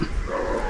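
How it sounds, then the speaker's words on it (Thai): Dog barking from below a pink rock cliff in a forest, heard at a distance amid steady outdoor background noise over a short span. "ข้างล่างก็จะมีเสียงหมาเห่าเนาะ"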